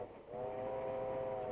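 A train in a 1930s film soundtrack: a steady, faint rumbling hum with a sustained whistle-like tone rising in after a brief dip, with no one talking.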